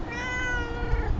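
A cat meows in one long, drawn-out call with clear wavering harmonics, close to the microphone and alone, with no talking.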